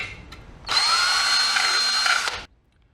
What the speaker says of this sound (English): I'm just going to drill them by hand